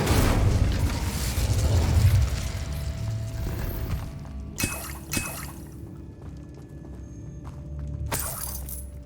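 Incendio fire spell cast in Hogwarts Legacy on PS5, heard as a roaring, crackling burst that fades, then sharp bright flares a little later, all over a steady low game ambience.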